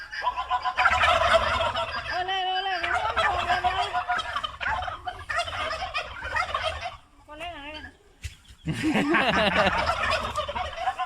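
Turkeys on a turkey farm in Trang, Thailand, gobble loudly and close in dense, overlapping bursts, with a brief quieter lull before the chorus of gobbles swells again.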